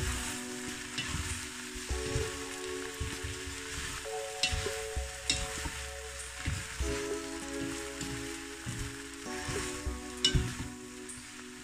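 Sauerkraut stews in oil in a pan, giving a steady close sizzle and bubbling crackle with a few louder pops, continuous and without talk.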